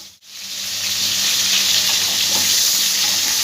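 Pointed gourd frying in hot oil: a steady, loud sizzling hiss that starts abruptly and continues evenly without a break.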